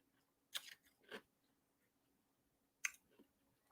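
Crunching on ice cubes comes in three short, crisp bursts, two close together and a third after a pause, quiet and close with no talking.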